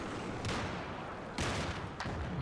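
Gunfire between two armored personnel carriers in a tactical military game match, with three sharp broadband bursts ringing out over steady background noise, each shot fairly loud and spaced about half a second to a second apart.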